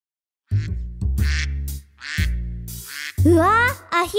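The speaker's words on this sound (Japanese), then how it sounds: "うわアヒルだ" Cartoonish duck quacks in a children's song, a series of bright nasal calls in short bursts with brief gaps, loud and close over musical backing.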